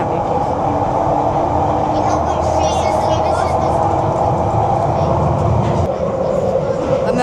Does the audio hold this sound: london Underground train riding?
yes